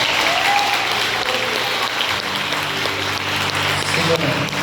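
A church congregation applauds steadily throughout, a dense wash of clapping hands with a faint voice and low background hum beneath it.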